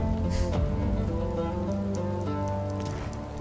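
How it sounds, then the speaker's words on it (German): Steady rainfall conjured by a spell in Divinity Original Sin 2, a dense hiss of drops pattering on surfaces, continuous and fairly close, layered over the game's background score with no talking. "Du hast den Regen gezaubert, oder?"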